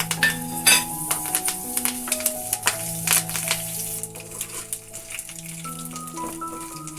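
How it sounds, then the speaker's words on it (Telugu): Spices for tempering sizzle and crackle in about half a cup of hot oil in a pan, ready for a ginger chutney. Steady frying with occasional metallic clinks, over soft background music. "పోపు దినుసులు వేసుకుని మనం పచ్చడికి పోపు వేసుకుందాం."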